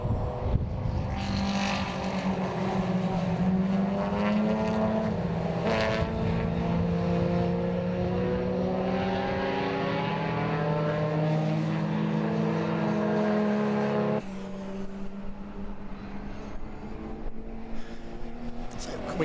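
Race cars at an Aston Martin Owners Club race at Donington Park circuit sustain a loud engine roar that climbs and drops in pitch as they pass. A commentator talks continuously over the racing.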